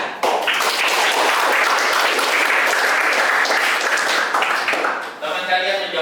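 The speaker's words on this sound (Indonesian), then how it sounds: "Baik, tepuk tangan." A classroom of students claps for a classmate's correct answer during a grade 8 Islamic religious education lesson. The clapping is loud, close and continuous, and a voice speaks briefly as it fades near the end.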